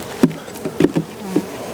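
Honey bees buzz close by in short bursts during a hive inspection, several brief drones and thumps against a soft background hum.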